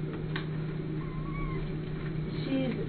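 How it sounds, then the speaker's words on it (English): A cat meows faintly in the background a few times, thin drawn-out cries over a steady low hum. "you might be able to hear a little pitiful meowing in the background."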